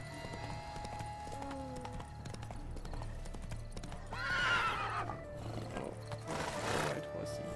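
A horse in The Witcher 3 gives a pair of loud, close whinnies over a low ambient bed, with faint hoof clops in the background.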